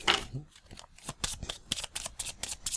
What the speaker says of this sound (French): Je repioche 5 cartes.